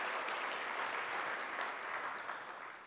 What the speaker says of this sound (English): Please give these Verizon colleges a round of applause